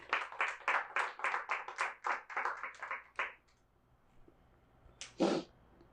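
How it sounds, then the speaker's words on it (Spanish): Church congregation clapping in a strong, regular rhythm of about a dozen loud beats, then stopping abruptly, followed by a quiet pause and one short, sharp burst near the end. "Dale un fuerte aplauso al Señor."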